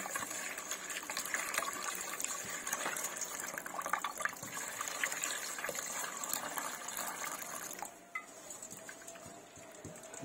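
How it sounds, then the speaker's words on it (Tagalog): Water gushes steadily into a cooking pot with chicken nearby, a bright rushing pour that stops abruptly near the end, leaving faint clinks and quiet dripping. "Nilagyan ng tubig."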